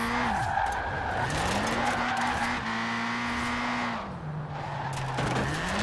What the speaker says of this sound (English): I usually just use the power to make sure the car keeps drifting